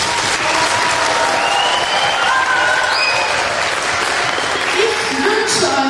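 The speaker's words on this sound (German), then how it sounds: "Auch für euch beide natürlich ein dicker Applaus" Loud, continuous applause from a seated audience at a live show, honouring the sound and camera crew, with whistles and voices rising above the dense clapping.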